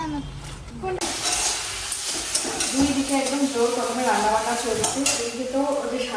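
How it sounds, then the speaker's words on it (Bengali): A paste of ground greens fries with shrimp in a pan, making a continuous sizzle with the scrape of stirring while people talk over it throughout. "শাকটাকে বাটা করেছি চিংড়ি মাছ দিয়ে ভাজা হচ্ছে এখন"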